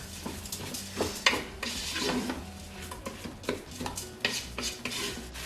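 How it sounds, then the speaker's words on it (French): Dry rice, 250 g, poured into the metal bowl of a Cookeo multicooker, a soft hissing, rattling patter with scattered small clinks, fairly quiet and steady with no talk. "je mets 250 g de riz dans le Cookéo"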